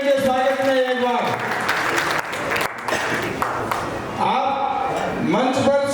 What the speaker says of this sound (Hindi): तालियां बजाइए इनके स्वागत में एक बार।